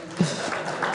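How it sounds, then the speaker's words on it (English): Audience applause at a financial planning address, a short burst of clapping rising sharply and holding steady for about a second. "Sir, please clap."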